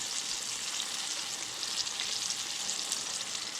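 A fish fillet fries in a pan, giving off an even, dense crackling hiss that stays steady and close throughout, with no voices.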